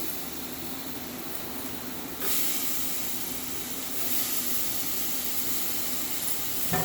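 Tomatoes go into a hot pan for a mutton and okra curry, raising a steady broad hiss of sizzling that swells a little louder partway through. It runs continuously with no talking.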